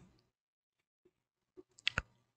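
A few faint, sparse mouse clicks on a computer settings menu, ending in a quick double click in otherwise near silence.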